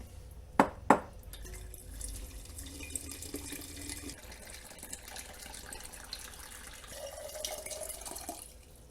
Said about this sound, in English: we're just going to add water to it